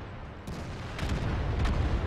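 Tank cannon fire in a tank battle video game: a few heavy, muffled booms over dense rumbling battle noise, loud and close, with no speech.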